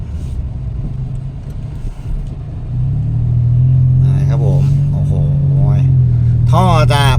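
Mitsubishi Mirage GLX automatic with an aftermarket exhaust gives a soft, smooth, low exhaust rumble that swells and holds steady, with someone talking over it.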